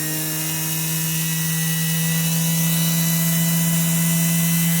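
A Girmi mini robot grinder's electric motor runs in a steady, loud, close whine with a strong constant hum and no pauses.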